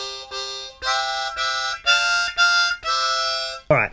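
Harmonica playing the opening phrase of Twinkle Twinkle Little Star, blown and drawn on holes 4 and 6; seven clear sustained notes in a steady rhythm, close and alone, ending with a short breathy sound.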